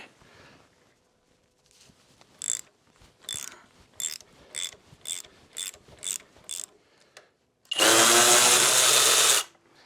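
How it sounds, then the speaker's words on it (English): Socket wrench ratchet clicking while loosening tight foot peg mount bolts on an M8 Softail motorcycle, a series of about eight close, rhythmic ratcheting bursts followed by a loud, steady whirring burst near the end; no talking. "Next is going to be remove the whole foot peg mount. It should take a 5/16 Allen socket."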